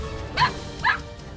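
A dog barks twice, about half a second apart, at moderate volume with a faint indoor room background and no voices.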